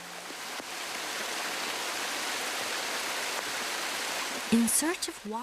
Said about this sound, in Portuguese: A água jorra ininterruptamente pela encosta.